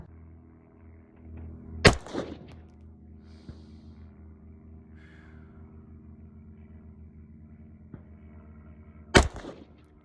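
Two sharp, loud rifle shots several seconds apart, fired at a paper target at a 36-yard zeroing session, each with a brief echoing tail over a quiet outdoor background.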